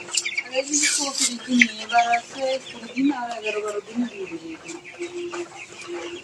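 Broiler chickens on a poultry farm clucking and chattering continuously at close range, many birds overlapping in a busy, uneven rhythm.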